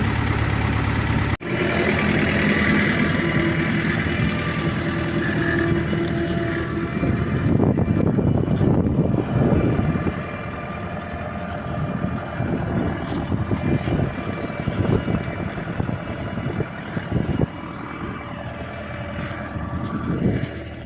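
A tractor engine runs steadily at low revs while plowing rain-soaked soil, wheels slipping at times, rumbling continuously with heavier, rougher bursts of mechanical noise partway through.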